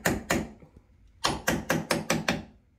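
A hammer smashes objects indoors: two loud, close blows, a brief pause, then six rapid, evenly spaced strikes, each ringing out sharply.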